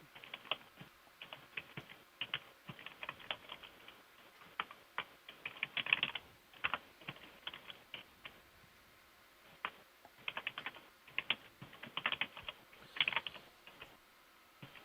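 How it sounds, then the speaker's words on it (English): Keys tapped on a computer keyboard over an open microphone during a deep-sea ROV dive broadcast, irregular bursts of faint clicking with short pauses, alone with no talk. "we're hearing you type on the keys"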